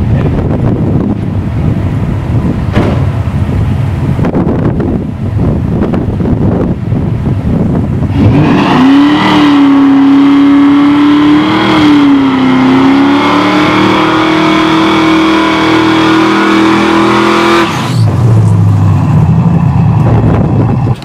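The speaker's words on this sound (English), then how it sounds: "we just did our burnout" Car tire burnout with a loud sustained engine roar and rising rev tone in the middle, heavy wind and roaring noise throughout, close to the microphone, no talk.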